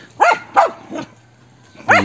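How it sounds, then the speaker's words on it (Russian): A dog barks four times nearby, three quick loud woofs followed by a pause and a final bark. "Да тихо ты гавкаешь."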